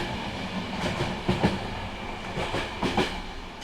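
Bulgarian train wagons rolling along the rails, a steady rumble with faint rhythmic clicks and clunks at close range, no voices.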